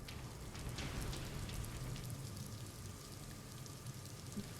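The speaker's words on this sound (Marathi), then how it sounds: "पावसाला सुरुवात झालेली आहे" Rain falls steadily on farm fields in Yavatmal, a soft, even hiss of drops on the ground that holds at a constant level, with no voices.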